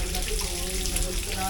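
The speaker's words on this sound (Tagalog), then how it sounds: "kumuha ng tubig dito" Water gushes and splashes steadily from a 108-year-old artesian well in Aplaya, Bauan, filling a container with a constant close rush, and a voice speaks faintly underneath.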